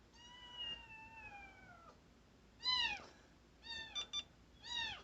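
A cat meows several times, quiet and close by, with long drawn-out cries followed by shorter ones and brief gaps in between.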